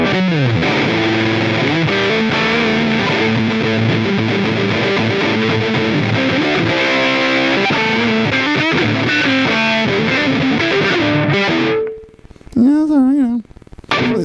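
A loud electric guitar through a Big Horn Fuzz effect on an HX Stomp riffs continuously, gritty and saturated, then drops out briefly before a few wavering bent notes return.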